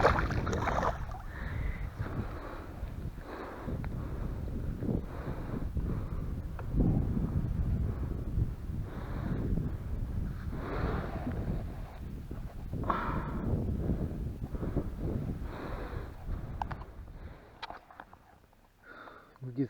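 A strong, steady wind sweeps over a lake late at night, rumbling and buffeting the microphone in low gusts. Quiet voices murmur beneath it before it eases near the end.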